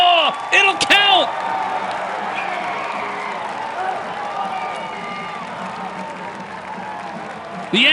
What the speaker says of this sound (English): it brings a standing O from the sold-out crowd here at Arlotta